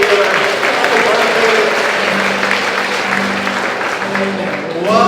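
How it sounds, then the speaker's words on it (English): A church congregation at a Sunday morning service applauds and cheers in a dense, continuous burst of clapping that fills the room, with a voice briefly rising at the end. "Give him a big cheer."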